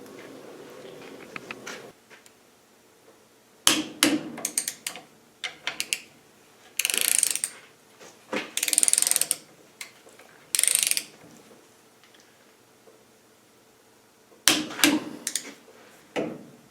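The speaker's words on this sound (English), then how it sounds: "these are tightened down to 78 Newton meters using a torque wrench" Ratcheting torque wrench tightening axle swivel bolts to 78 Nm on a swivel ball strip-down: bursts of rapid ratchet clicks in short runs separated by pauses, close and fairly loud, with no talk.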